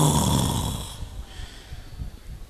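A preacher imitates snoring with his voice: a loud, rasping drawn-out snore that fades into quieter breathy noise.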